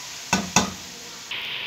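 Two sharp spoon scrapes stir cauliflower for baghari gobi in a hot pan, followed by a steady hiss of sizzling oil, close and fairly loud with no talking.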